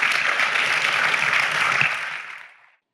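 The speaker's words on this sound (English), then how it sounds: "please give a round of applause to our great panelists" Audience applause for a panel at a climate and trade policy summit, a dense steady wash of clapping that holds for about two seconds and then fades out.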